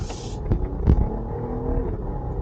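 A 2023 Jeep Grand Cherokee Summit with a twin-turbo V6 accelerates in sport mode, its engine droning up loudly from inside the cabin, with a couple of brief thumps early on.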